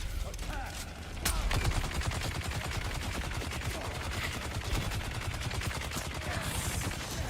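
Rapid gunfire from projectile weapons in the video game Dune Awakening, a dense, continuous burst of shots lasting several seconds, loud and close with a little faint talk underneath.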